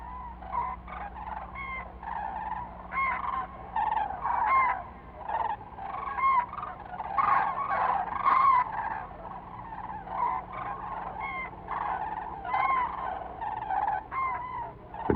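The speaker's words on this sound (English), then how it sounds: "flocks of European cranes cross the mountains on their way from Spain to Scandinavia." Flocks of European cranes call continuously as they migrate over the snowy high passes of the Pyrenees, a dense chorus of bugling cries from many birds at moderate distance, steady throughout with no voices.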